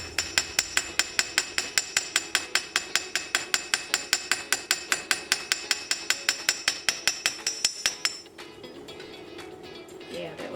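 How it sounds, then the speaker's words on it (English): Steady rapid hammering on the edge of a copper bracelet being textured, a long even run of sharp metallic strikes, loud and close, stopping after about eight seconds with quieter handling noise after. "So all I'm doing here is just hammering the edge of it, giving a little texture, squeezing those end pieces together."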